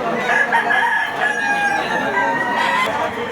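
Chickens for sale at a market in Batangas, with roosters crowing and hens clucking in a steady, busy chorus that fills the whole stretch, several birds overlapping at close to middle distance.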